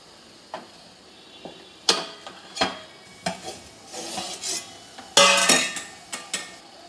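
Lid lifted off a steamer of homemade ukadiche modak, a few sharp metallic clanks and scrapes with light creaks and a brief hiss of escaping steam, close and moderately loud with quiet gaps between.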